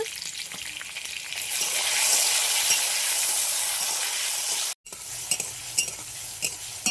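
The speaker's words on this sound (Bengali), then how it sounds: "টমেটোটা ভালো করে ভেজে নেব" Chopped tomatoes with green chilli fry in white oil in a pan, a steady close sizzle with scraping stir strokes that stops briefly near the end, then resumes with lighter clinks.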